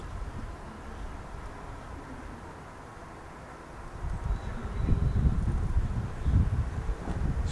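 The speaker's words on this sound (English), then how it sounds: "It's quite breezy out here" Breezy outdoor wind buffets the microphone beside a slowly burning, lightly smoking wood-gasifier rocket stove, a steady low rumble that swells louder in gusts over the second half.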